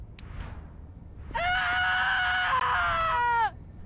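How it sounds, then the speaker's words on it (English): A loud, sustained scream from a character in The Walking Dead: Destinies video game rises abruptly and holds for about two seconds before cutting off, following a few brief faint sounds. "Was that Glenn screaming?"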